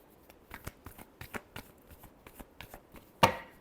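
Tarot cards being shuffled by hand in a series of crisp, close riffling flicks, ending in one louder, sharper snap of the deck.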